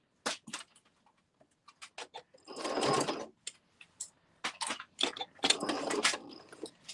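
A sewing machine stitching a Luxe Cuddle Fair Isle wrap with trim, heard as short bursts of rapid mechanical stitching separated by pauses, with two longer, louder runs, close and fairly quiet.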